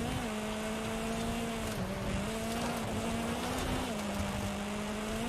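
A GRC Honda Civic rally car on a dirt stage in Forza Horizon 5, its engine droning steadily near and loud with slight pitch shifts as it shifts gears and holds speed over gravel.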